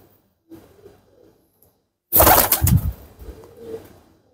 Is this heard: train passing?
no